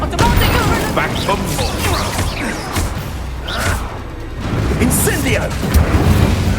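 Spell blasts and explosions in Hogwarts Legacy combat boom and rumble continuously, with dense crackling impacts layered together and voices shouting over the din.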